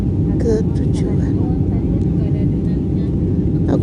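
Steady, loud cabin roar inside a Batik Air A320 flying from Jakarta to Lampung through turbulence, a dense low engine and airflow rumble that holds constant throughout, with faint voices in the background.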